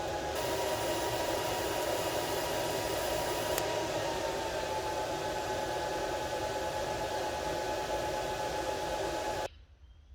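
A welding torch at 45 amps burns a hole through metal, giving a steady loud hiss and roar that holds without a break for about nine seconds, then cuts off abruptly, leaving faint background noise.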